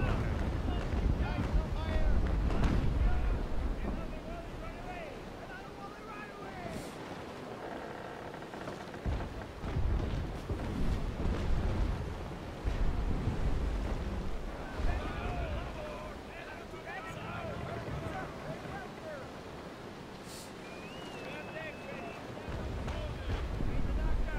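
A sailing ship runs before the wind in a Polish Commonwealth naval battle game, steady rushing wind and water wash with creaking, heard continuously beneath a person talking.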